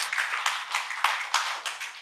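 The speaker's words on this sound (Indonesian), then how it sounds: "biar semangat kita tepuk tangan dulu ya" A small audience of women clapping hands together in a hall, a brisk, steady run of claps at moderate loudness with no voices over it.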